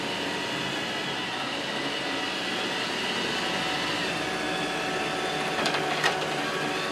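An iRobot Roomba 645 robot vacuum cleans the floor and rolls over vents with a steady whirring motor hum and brush noise, a few brief clicks and rattles near the end.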